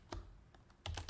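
Keys clack on a computer keyboard while text is typed into a website builder page, a few close, crisp keystrokes spaced unevenly and then a quick burst near the end, with no talk.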